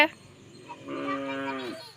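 A single drawn-out cow moo, close and clear, rising then fading after about a second.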